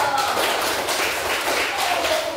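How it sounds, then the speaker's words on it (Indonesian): A class of schoolchildren claps for a classmate, a dense, steady patter of many small hands filling the room at close range, with a few voices calling out over it. "tepuk tangan untuk Iko"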